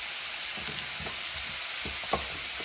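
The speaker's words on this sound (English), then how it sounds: "And now I'm going to mix it with the pepper and onion." Chicken sizzling in a pan as it is stirred with pepper and onion for a Philly cheesesteak, a steady close frying hiss with soft repeated scraping stirs and no talking.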